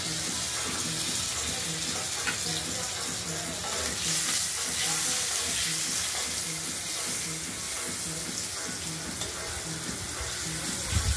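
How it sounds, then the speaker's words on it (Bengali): Potatoes fry in hot oil with cumin seeds for a Bengali potato and pointed gourd curry, giving a steady, close, continuous sizzle that holds evenly throughout with no talking. "আলুটা ভাজা হয়ে গেছে"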